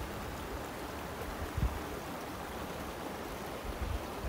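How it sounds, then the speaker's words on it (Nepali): Cold, crystal-clear mountain stream water flowing in the Rocky Mountains, a faint, steady wash of moving water with a couple of soft low thumps. "सिधै माउन्टेनबाट आएको पानी।"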